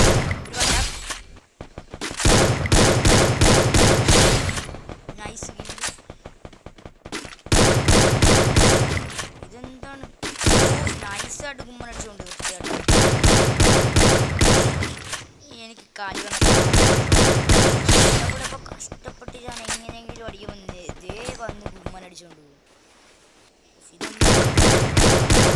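Rapid bursts of gunfire from a shooting video game rattle loudly in repeated volleys, broken by brief pauses, with game sounds layered in and a quieter stretch near the end.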